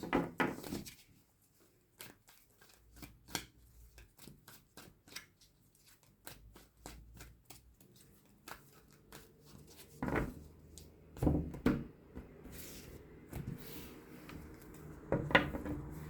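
Tarot cards are shuffled and spread on a table in a quiet room, giving rapid close riffles and flicks, then scattered taps and slides as cards are laid out, with brief louder shuffling bursts later.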